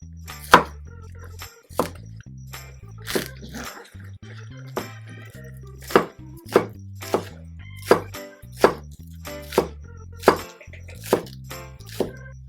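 Knife chopping green onions on a board, about fourteen sharp, evenly spaced chops over steady low background hum, with no talk.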